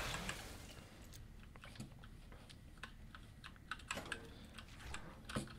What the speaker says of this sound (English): That's a loud keyboard, I know.